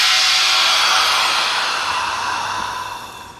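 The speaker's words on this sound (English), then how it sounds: "We're going to release our vacuum pressure." A Promarksvac vacuum tumbler releasing its vacuum pressure, a close, loud airy hiss that slowly fades over a few seconds.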